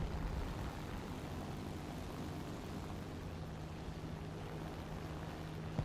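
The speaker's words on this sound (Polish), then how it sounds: "Samoloty tu idą, ale mam nadzieję, że się odczepią." Aircraft engines drone steadily in a World War II tank combat game, a continuous propeller hum with a low tonal whine holding at even loudness throughout, with no talk over it.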